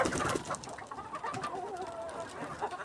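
Hens clucking softly inside a village coop where they lay eggs, a quiet scatter of short, uneven clucks and murmurs close by with no talk over them.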